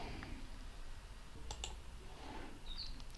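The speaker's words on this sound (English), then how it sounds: "so you can double click or right click and you can open" A computer mouse clicked while opening an installer file on a Windows PC, giving a couple of faint, quick clicks in a pair and one more at the end over quiet room tone.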